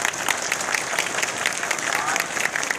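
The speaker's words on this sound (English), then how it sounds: "let's practice clapping" Dense applause from a comic con Q&A audience practicing their clapping, a steady crowd wash of many hands held evenly for a few seconds with faint crowd voices mixed in.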